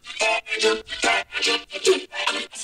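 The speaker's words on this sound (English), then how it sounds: "And then you add the vocoder and it sounds like this." Vocoder-processed vocal chops in a dance music production stutter in about seven short rhythmic bursts, bright and buzzy with a robotic harmonic texture, separated by brief gaps.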